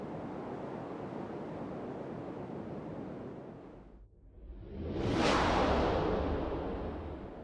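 Strong wind buffeting at Mount Soledad Memorial Park in San Diego, a steady roar that dips briefly to near quiet, then surges back in a loud gust rushing across the microphone.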